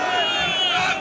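A large crowd at a religious gathering shouting takbir together while standing up, a dense, loud roar of many voices held steadily throughout.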